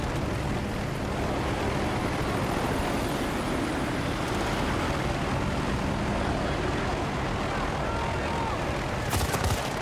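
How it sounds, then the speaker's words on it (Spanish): In Battlefield: Bad Company 2, a dense, continuous helicopter rotor roar fills the battlefield, with bursts of gunfire and a voice speaking over it. "Helicópteros aproximándose."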